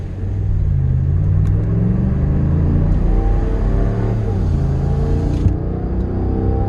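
A U-Haul truck with a single exhaust and an empty bed rumbles steadily as it accelerates, its engine note rising and dropping through crisp gear shifts, heard loud from inside the cab.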